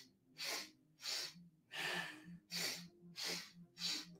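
Six forceful, evenly spaced exhalations during a kundalini yoga breathing exercise, each a short breathy rush of air about every two-thirds of a second, close and clear over a faint low hum.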